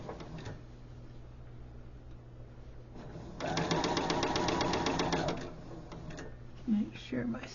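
A sewing machine runs a seam in a steady rapid whirring chatter for about two seconds, framed by quiet handling and fabric rustling, with a brief voice near the end.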